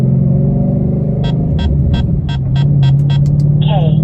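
A 2013 Roush fitted with Stage 3 headers cruises in everyday driving, shifting below 3,500 rpm; a loud, steady close-up exhaust drone and rumble with a brief dip at the gear change, followed by a rising whine.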